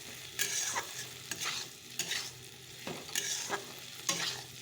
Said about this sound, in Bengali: ডিম আর আলু একটু ভেজে নিলাম